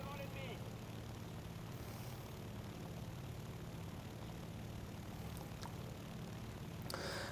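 In the video game War Thunder, a propeller fighter's engine runs slightly hot, giving a constant, loud drone that fills the whole stretch.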